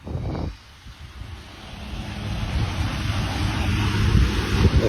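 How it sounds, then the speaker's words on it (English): Ocean waves wash in a continuous broad roar with wind buffeting the microphone, swelling louder toward the end after a brief gust at the start. "It's the ocean."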